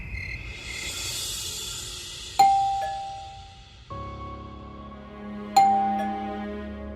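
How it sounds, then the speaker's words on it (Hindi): Two two-tone chimes ring out a few seconds apart, each ding-dong sharp and then fading, over a low steady background hum. "डोरबेल बज रही, दरवाजा खोलो।"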